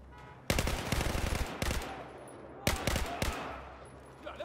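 Two loud, close bursts of rapid automatic gunfire in Battlefield 4, separated by a short pause, with a faint voice between them.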